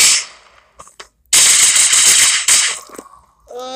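Pistol gunfire in the online shooter Central Ops: a sharp opening shot, a couple of brief pops, then a long loud rapid volley followed by another hard burst, close and dominant with no talking.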